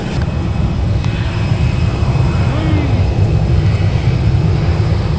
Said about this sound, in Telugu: మనం ఇక్కడ నుంచి వెళ్ళబోతున్న ఫ్లైట్ వచ్చేసి ఇదే